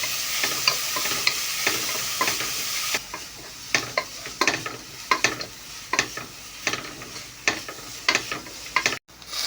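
Food fries in a pan for chicken biryani as a spatula stirs it repeatedly, sharp rhythmic scrapes and taps over a steady sizzle that fades partway through, close with no talking.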